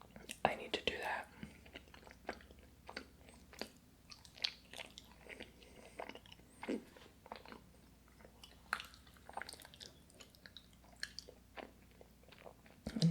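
Close, soft chewing of strawberry and melon Japanese mochi rice cakes, with sticky squishes and light bites repeating in an irregular rhythm, plus faint whispery mouth sounds against a quiet background.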